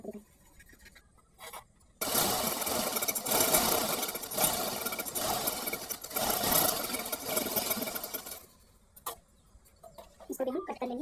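A sewing machine stitches a baby frock for a 2-to-3-year-old, running in one loud, steady burst of about six seconds, with quieter handling sounds before and after.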